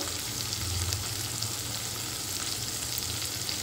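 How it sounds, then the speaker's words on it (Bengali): Kashmiri chili and turmeric powder fry in cooked masala for a banana-flower and prawn dish, a steady close sizzle with light stirring scrapes and no voices. "এবার এর মধ্যে আমি দিয়ে দিচ্ছি কিছুটা পরিমাণে কাশ্মীরি মির্চ, হলুদ গুঁড়ো"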